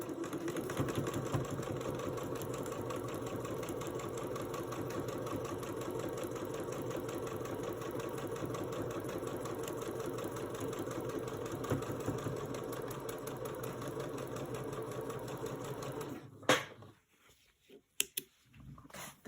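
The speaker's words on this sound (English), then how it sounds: "And give them a quick sew." A sewing machine stitching quilt pieces hums and rattles steadily and close for about sixteen seconds, then stops, followed by a few scattered handling clicks.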